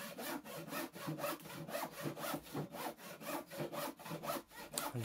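Hand saw cutting through pallet wood for a DIY garden chair, a steady back-and-forth rasp of about a dozen strokes, close and fairly loud, with no talking.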